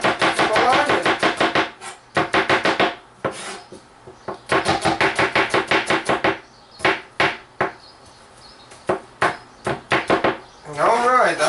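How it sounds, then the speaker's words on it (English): Knife chopping vegetables on a board for a Georgian vegetable salad, rapid runs of crisp chops in bursts separated by short pauses. "I don't want to chop them too coarsely."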